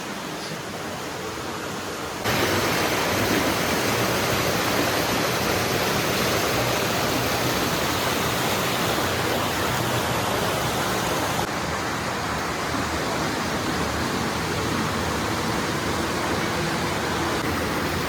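Water rushes steadily beside the stone Pokharbav Ganpati temple during heavy monsoon rain, a continuous full roar that swells louder after a couple of seconds and stays constant, with no voices.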